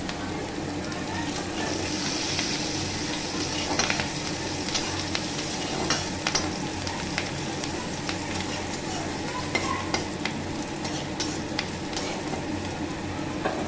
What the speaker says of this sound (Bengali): পেঁয়াজগুলো লাল লাল করে ভাজতে হবে